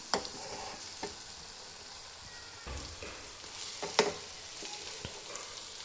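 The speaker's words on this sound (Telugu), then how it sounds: "కారం పేస్ట్ని ఫ్రై చేయండి" Chili paste frying in hot oil left over from cooking eggs crackles in a steady close sizzle, with a few sharp spatters and scrapes of a spoon stirring it.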